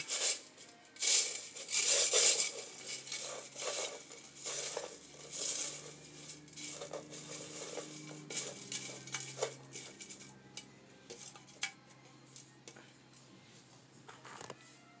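Perlite and potting soil are mixed by hand, giving gritty rustling and scraping with louder bursts early on that settle into softer, irregular crunches and small taps.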